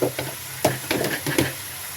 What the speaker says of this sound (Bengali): শাপলা সিদ্ধ করে নিয়েছি, ওগুলো দিয়ে দেব।